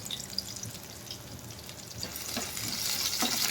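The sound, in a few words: onions and tempering spices frying in oil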